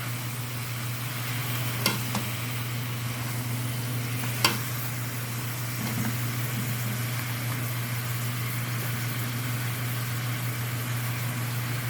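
Chicken adobo fries steadily in a pan with a constant low sizzle, while two sharp stirring clinks from a utensil against the pan stand out. A steady hum runs underneath throughout.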